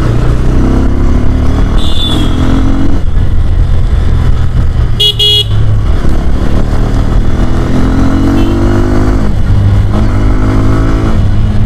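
A Bajaj Pulsar N125 motorcycle engine drones and revs loudly up close on a city ride, rising and falling, with traffic and a couple of brief horn toots in the background.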